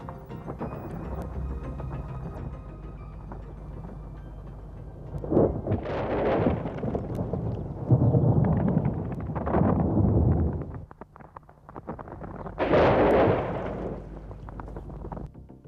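Artificial lightning discharge at a night-time laboratory test of a Prevectron lightning rod on a launch pad, a few sharp cracking bursts with rumbling decay over a steady low background.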